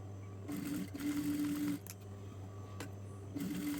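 A sewing machine stitches the shoulder seam of a lined churidar top in short, close bursts of rapid whirring separated by brief pauses.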